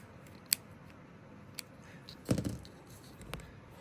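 Scissors snipping crochet yarn, a few sharp isolated clicks followed by one louder, rustling cut, close and quiet in an otherwise still room.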